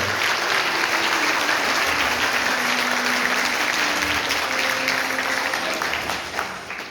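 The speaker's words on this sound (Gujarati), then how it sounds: "એકવાર જબરજસ્ત તાળીઓ કરીને બનાવો" An audience at a Jain gathering in a hall applauds, dense sustained clapping from many hands that holds steady and tapers off slightly near the end.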